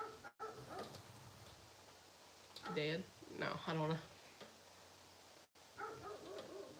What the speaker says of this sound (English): She's shaking the door because she's laying up against the front door and she's barking, and that's what I'm hearing.